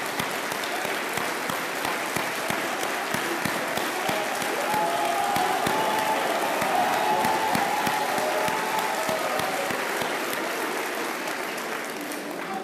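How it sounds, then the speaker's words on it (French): A large audience claps steadily and densely for over twelve seconds, the applause swelling slightly in the middle and staying loud and continuous, with faint crowd murmur underneath. "On voit que ce sont des applaudissements volontaires"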